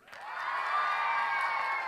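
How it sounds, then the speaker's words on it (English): A church congregation bursts into sustained cheering and whooping on a count of three, a loud crowd roar that swells quickly and holds steady. "Every time someone comes up out of that water, we're going to cheer for a brand new life"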